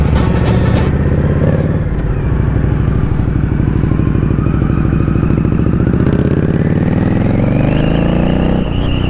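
An Indian Scout Bobber Twenty motorcycle with a Jekyll and Hyde valved exhaust revs close up, its engine rumbling loudly and steadily, the pitch rising as it accelerates toward the end.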